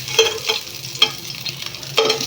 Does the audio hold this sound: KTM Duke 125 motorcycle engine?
no